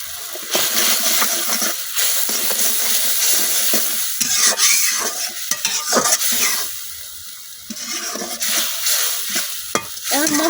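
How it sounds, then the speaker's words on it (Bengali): Spices for a silver carp fish curry with cucumber sizzling in hot oil as they are stirred, loud continuous frying with frequent scraping and clinking spoon strokes close by, no voices. "এখন মশলাটা কিছুক্ষণ কষাই নেন।"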